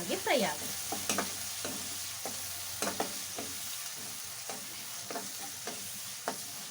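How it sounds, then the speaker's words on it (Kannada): Tomatoes fry with masala and salt in a pan for radish curry, a soft continuous sizzle punctuated by repeated spatula scrapes and taps at uneven intervals. "ಹಾಗೆ ಟೊಮೆಟೊ ಚೆನ್ನಾಗಿ ಫ್ರೈ ಆಗುತ್ತೆ."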